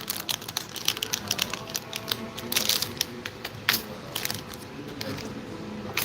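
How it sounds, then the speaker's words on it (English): A small package of 3D nail flower decorations is unwrapped up close, producing continuous crinkly rustling and crackling of plastic wrapping with sharper crunchy bursts. "So first, let's unwrap this without spilling them."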